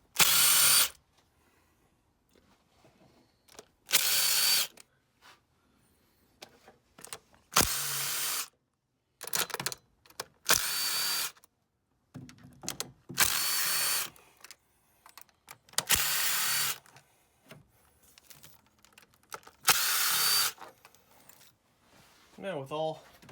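Power tool loosening valve cover bolts on a Mazda CX-7 engine, in repeated loud short whirring bursts about every two to three seconds, close up, separated by quiet handling noises.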